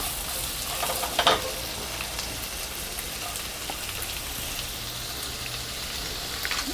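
Finely chopped ginger, about an inch of it, fries in a pan with cumin seeds, a steady close sizzle and crackle with a few sharper pops near the start, and no voices.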